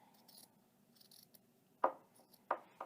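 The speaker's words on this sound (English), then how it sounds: "cut my fringe again, just like I did on the other side" Scissors snipping through the fringe of a fleece no-sew blanket: two crisp, close cuts about two-thirds of a second apart, following faint handling rustles in a quiet room.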